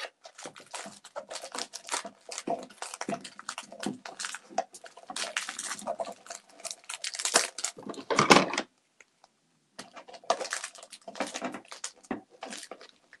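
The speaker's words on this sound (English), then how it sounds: "now we're going to go ahead and cut our ribbon" Scissors snip through ribbon while crafting a St. Patrick's Day deco mesh wreath, close and crisp amid steady crinkly rustling of material, with one louder burst of crunching near the end and a brief pause before the rustling resumes.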